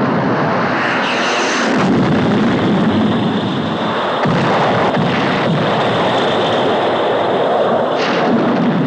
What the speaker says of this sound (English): dropping napalm